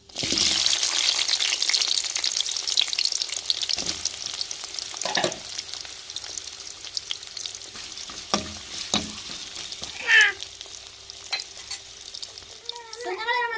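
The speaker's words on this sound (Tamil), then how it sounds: "வெட்டி வச்ச வெங்காயத்தையும் போட்டுக்கிறோம்" Chopped onions frying in a pan, a loud steady sizzle that slowly settles, broken by occasional spatula scrapes and knocks, with a short burst of running water.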